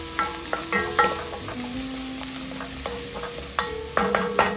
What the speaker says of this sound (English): I'm ready to go ahead and add my garlic to the pan. So I'm going to allow that garlic to cook for just about 30 seconds or so.